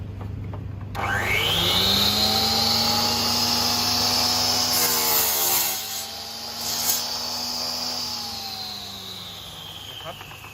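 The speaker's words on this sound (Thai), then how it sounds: "เดี๋ยวจะลองตัดตรงอีกสักอันนะครับ" A power saw with a 10-inch blade spins up and cuts straight through wood, its whine rising then holding steady for several seconds before dipping and winding down, loud and close.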